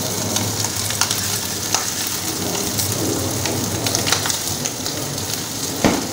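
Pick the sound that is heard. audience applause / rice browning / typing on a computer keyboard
rice browning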